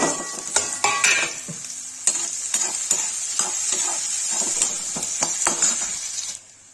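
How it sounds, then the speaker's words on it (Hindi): Onions sizzling in oil in a pan for egg curry while a utensil stirs and scrapes: steady frying hiss with sharp, irregular clinks and scrapes, close and fairly loud, with no talking. "देखिए गाइस प्याज डालो,"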